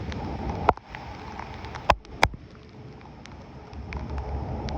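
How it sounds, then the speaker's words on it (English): Steady rain pattering and hissing under a highway overpass, with a few sharp drips or splashes standing out, fairly close and with no talking. "We're under the overpass. Raining pretty good."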